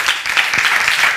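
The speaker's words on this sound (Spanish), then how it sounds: "Un aplauso para Eva." Applause from an audience at a Spanish-language talk show taping, a dense, steady wash of clapping that stays loud and even for the whole moment with no voices over it.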